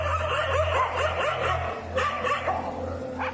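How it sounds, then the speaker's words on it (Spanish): Street dogs barking, a run of quick repeated barks and yips over a low steady hum, moderately close, with a few louder barks near the end. "Noté que los perros de la calle comenzaron a gruñir mientras se levantaban de su lugar y ladraban"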